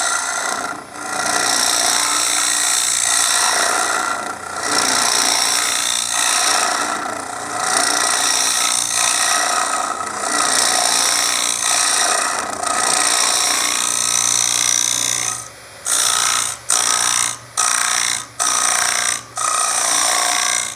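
A Robert Sorby multi-tip hollowing tool scrapes a spinning wooden squash form on a lathe, producing loud, continuous rasping in long passes that break into short, rapid stop-start bursts near the end.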